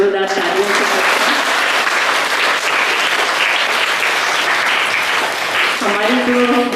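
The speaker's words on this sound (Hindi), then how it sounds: "आप स्कूल में सर का भी स्वागत हम लोग सभी जोरदार तालियों से करते हैं।" Loud applause from a school audience welcoming a guest, sustained crowd clapping that fills the room, with voices faintly audible near the start and end.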